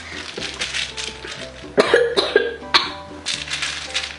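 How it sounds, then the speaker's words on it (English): A single short cough bursts out close by, followed by a couple of smaller coughs over quiet background noise. "I just had a little cough"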